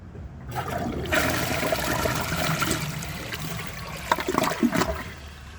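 A 2017 Sterling Windham toilet flushing during a test with a grocery bag: a close, rushing swirl of water that surges, keeps roaring for several seconds, then gurgles as the bowl drains. No voices are heard.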